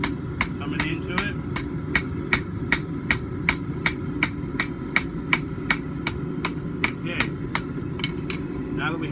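A 3-pound rounding hammer strikes hot steel on an anvil while drawing it out to a point for a forge-welded back scratcher, about twenty sharp, evenly spaced ringing blows over a steady low forge roar.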